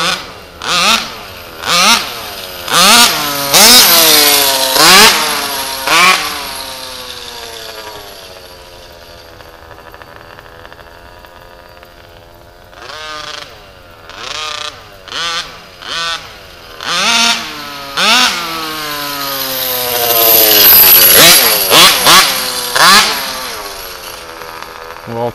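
A nitro HPI Baja RC car with an RCMAX 90GT engine during first break-in revs in sharp bursts, climbing and falling in pitch with brief idle stretches between, loud and close, and a voice comes in briefly.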